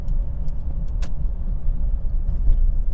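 A car circles a roundabout, heard as a steady, close low engine and road rumble that holds at an even level for the whole stretch, with no voices.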